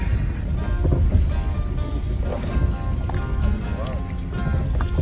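A motorboat running across open water near a channel marker while out fishing for tripletail, a steady engine rumble with wind and water wash, and people talking over it.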